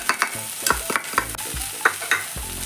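Pepper chicken masala being stirred in a pan, a spoon scraping and clacking in irregular strokes over a soft sizzle of frying.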